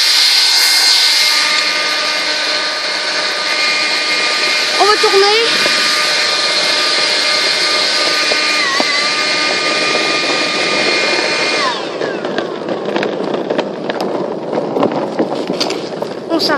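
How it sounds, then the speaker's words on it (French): A leaf blower powers a homemade skateboard cart, its loud, steady high-pitched roar running continuously before shifting to a rougher, rattling tone near the end as people talk over it. "On prend le souffleur."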